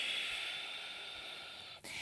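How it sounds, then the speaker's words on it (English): A steady, drawn-out hiss of Ujjayi breath fills a yoga practice, one long constricted exhalation through the throat that holds evenly before a brief break and resumes, close and alone. "Breathing deeply, engaging Ujjayi."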